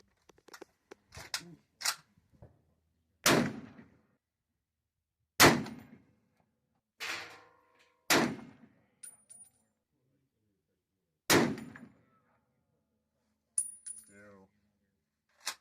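A 1950s Remington 740 deer rifle fires at steel targets 400 yards away, about eight sharp, loud cracks spaced irregularly amid silence, with short bits of talk between some shots.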